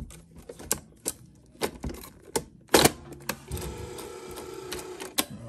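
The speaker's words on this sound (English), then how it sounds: "So let's see what happens when I pop this tape in." Betamax cassette loading into a 1984 Sony BetaMovie BMC-220 camcorder: a close series of sharp mechanical clicks and clacks, then a steady whirring motor hum as the transport engages.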